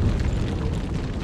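A boulder falls in the Resident Evil 4 HD video game, a loud, continuous low rumbling crash that fills the whole short moment without talk.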